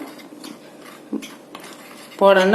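A spoon mixes white sugar and butter in a bowl for cinnamon buns, giving a few light scrapes and clinks before a voice begins speaking.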